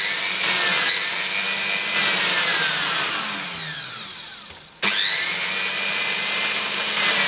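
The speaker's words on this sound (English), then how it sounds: "Let's try this Fisher and Paykel pump motor." A Fisher and Paykel pump motor rated at 0.7 amp and 80 watts, made in France by Selny, runs with shorted fields in a high steady whine that sags, cuts out briefly, then snaps straight back to full speed.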